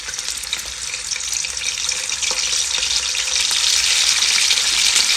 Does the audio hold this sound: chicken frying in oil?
yes